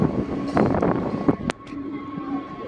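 A MEMU passenger train pulls out of Ghanpur station, a rumbling roll heard from on board with a few sharp clanks and a sustained tonal whine, moderately loud and steady.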